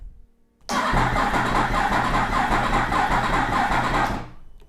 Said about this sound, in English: I decided to crank the bike regardless, hoping that it would start.